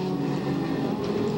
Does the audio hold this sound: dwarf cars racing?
yes